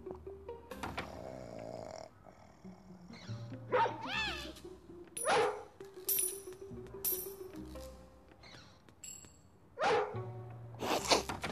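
Dog barking in a video game: a few sharp barks and yips rise out of layered game sound effects and music, with loud bursts at intervals over a constant electronic background.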